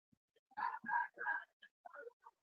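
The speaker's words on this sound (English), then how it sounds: "I don't know if you hear the background, but it is there. The roosters and dogs." Roosters crow in the background at a morning setting, short harmonic calls repeating in a quick series of bursts, moderately faint and distant, with dogs also around.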